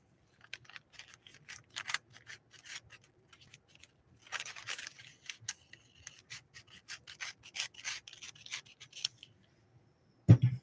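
Scissors snip away excess material at a New Home Model 703 sewing machine, making a run of close, crisp cutting and rubbing strokes in quick bursts, with a sharper clunk at the very end.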